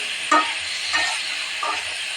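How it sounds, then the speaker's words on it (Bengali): Vegetables, including pointed gourd, lightly frying in a pan give a steady soft sizzle, with three brief clinks of a spatula stirring at regular intervals. "হালকা একটু ভেজে নিচ্ছি আগে"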